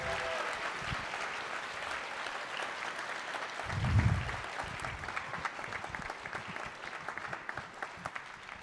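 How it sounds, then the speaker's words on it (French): Audience applause at a hackathon closing ceremony, steady clapping that carries throughout with a brief low thump near the middle, no voices on top. "Allez, on peut les applaudir bien fort."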